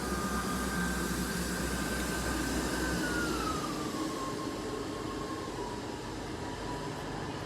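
An East Midlands Railway passenger train rumbling at a station platform, low steady drone with a faint tonal whine sliding downward as it moves, no voices.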